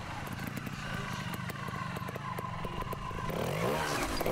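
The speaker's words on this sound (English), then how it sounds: "Riding an MRS Sherco, 250cc bike" An MRS Sherco 250cc trials motorcycle works through a log section at a trials event, its engine running steadily close by with low-speed revs, bursts of throttle and clattering knocks from the bike, then a louder surge near the end.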